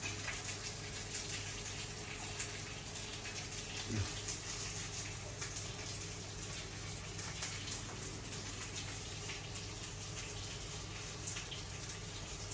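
A Fisher & Paykel dishwasher drawer rinses with a constant, even rush of water and a low mechanical hum underneath, faint and continuous with no distinct breaks.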